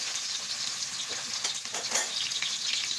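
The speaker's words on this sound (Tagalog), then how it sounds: "Ilagyan ko na ng aking mantika or oil." Cooking oil sizzles in a pan while squid adobo is made, giving a steady, close, bright hiss with faint crackles and no talking.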